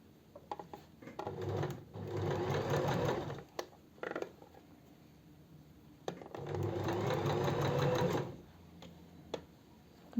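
A sewing machine stitches a cocktail dress in two sustained whirring runs separated by short pauses and small clicks, close and clear with no talk.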